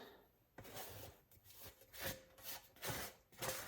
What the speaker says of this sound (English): I'm just gonna scrape it off of here and right into my garbage can